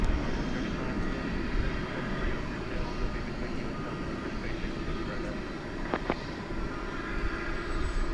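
A Boeing 737 MAX 9 airliner taxies at DFW Airport at night, giving a continuous low engine rumble with a couple of brief sharper sounds midway and faint background voices.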